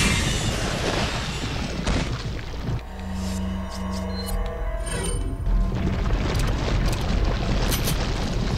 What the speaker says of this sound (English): Definitely time for a flashbang.